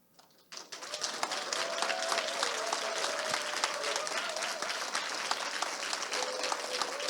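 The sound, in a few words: audience applauding and cheering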